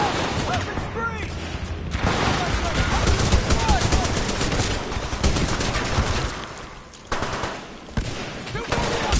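Sustained automatic gunfire in the Titanfall 2 shooter, rapid bursts and booms layered densely with brief lulls, while shouted combat voices and radio chatter sound over the din.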